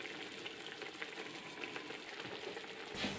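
Chicken stock bubbling and hissing steadily in a pan for a chicken and Camembert pie, a soft continuous simmer heard close and alone, with a brief clatter at the end.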